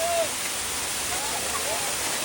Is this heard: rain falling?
yes